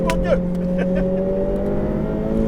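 A car engine on a race track holds a steady, light throttle and then picks up gently, with an even drone throughout while a man coaches in French.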